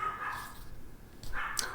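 A dog barks indoors a couple of times, short and somewhat muffled, at moderate distance in a quiet room.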